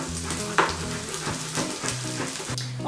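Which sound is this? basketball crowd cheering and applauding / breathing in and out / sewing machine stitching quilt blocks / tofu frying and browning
tofu frying and browning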